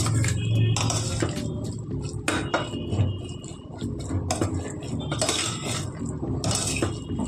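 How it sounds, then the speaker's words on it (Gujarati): Guvar beans being stirred with masala spices in a metal pot, with a spoon scraping and clinking against the sides in a steady, close, busy rhythm and a few sharper knocks. "બધું સરસ રીતે આપણે હલાવીને ગવારની સાથે મસાલો સરસ રીતે સેટ થઈ જાય તેવી રીતે બધું જ હલાવી દઈશું"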